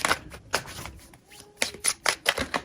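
Tarot cards riffling and being dealt in short bursts, a series of crisp papery flutters and slaps spaced unevenly, close by with no talk.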